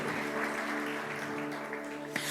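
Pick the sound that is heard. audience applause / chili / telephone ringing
audience applause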